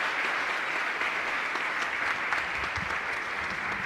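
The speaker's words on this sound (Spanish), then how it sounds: "Fuerte aplauso para todos nosotros." Steady, dense applause from a congregation filling a parish church at the close of a Catholic Mass, sustained at an even loudness for the whole stretch without a break.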